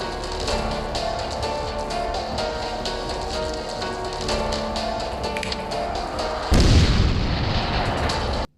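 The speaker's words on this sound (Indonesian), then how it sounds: "Matsunaga pun berinisiatif untuk meledakkan jasad si Nobunaga Oda ini" A fire-element blast explodes a body in a video game, heard as a dense, crackling roar that surges into a louder booming burst near the end before cutting off.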